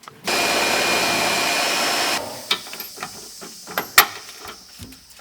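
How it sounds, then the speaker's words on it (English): A power drill whirs steadily for about two seconds while drilling rear bolt holes for a rollbar in a Mazda Miata, then stops, followed by scattered clicks and knocks of tools being handled nearby. "we've gone ahead and drilled the rear holes on both"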